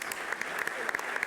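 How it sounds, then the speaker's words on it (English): A round of applause at a startup venture competition: steady, dense crowd clapping that fills the brief moment at an even level, with voices faintly mixed in. "Let's give a round of applause"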